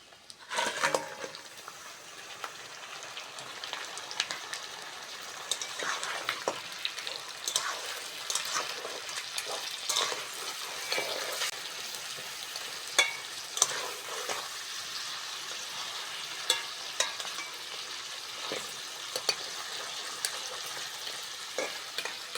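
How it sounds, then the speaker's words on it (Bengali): Crabs frying with onion and green chili in a pan, heard close as a soft continuous sizzle broken by scraping stirs and small crackles, with no talk. "পেঁয়াজের সঙ্গে ভালো করে কাঁকড়াটা ভেজে নেব"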